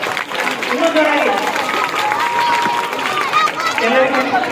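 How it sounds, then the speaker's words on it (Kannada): Schoolchildren at a Prathibha Karanji school programme clap loudly and continuously in a dense burst of applause, with voices and crowd chatter mixed in throughout. "ಎಲ್ಲ ಮಕ್ಕಳು ಜೋರಾಗಿ ಚಪ್ಪಾಳೆ ಜೋರಾಗಿ ಇನ್ನೂ ಜೋರಾಗಿ"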